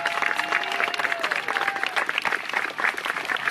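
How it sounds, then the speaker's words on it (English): Steady applause and cheering from a crowd closing a naturalization ceremony at a national park, a dense continuous patter of clapping with scattered voices, moderately loud and unbroken for the whole stretch. "The crowd cheers and welcomes 40 new Americans as the ceremony concludes."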